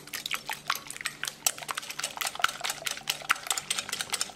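A whisk beating eggs with black pepper and milk in a bowl for a chicken marinade, producing rapid, steady clicking and slapping strokes, close and moderately loud with no talking.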